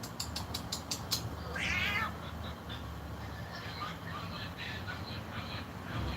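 A pet cat called Baby Tiger gives a single clear meow, fairly close, over a low background hum with a few faint clicks.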